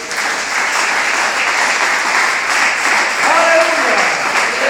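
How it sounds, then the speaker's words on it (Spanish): A church congregation breaking into sustained, dense applause that fills the room, with voices calling out beneath the clapping throughout. "Denle un aplauso a Cristo."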